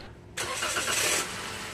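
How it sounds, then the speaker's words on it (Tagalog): A Toyota Avanza engine cranks and catches after the battery's negative terminal is reconnected, the start sudden and loud, then settling into a steady idle in a repair shop. "Pag okay na, pa-start ko na itong makina."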